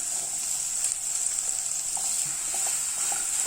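Chopped ridge gourd and onion sautéing in hot oil, a steady close sizzle with faint occasional clicks of a stirring spoon, no voices.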